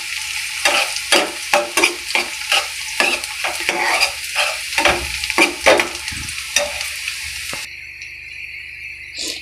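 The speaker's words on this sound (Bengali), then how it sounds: "এই যে দেখেন আমার পেস্টটা এখন অনেকটাই ভাজা হয়ে গেছে" Onion paste frying over lowered heat in a pan, rhythmic scraping stir strokes roughly every half second over a steady close sizzle, stopping near the end as a brighter hiss takes over.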